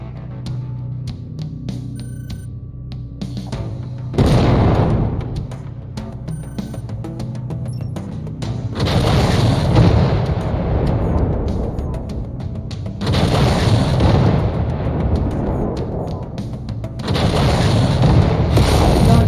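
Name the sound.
mech weapons fire destroying enemy mech, MechWarrior 5 video game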